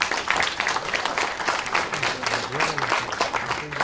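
Audience applause at a French employment conference, a dense burst of clapping that holds steady for a few seconds. A voice speaks underneath it.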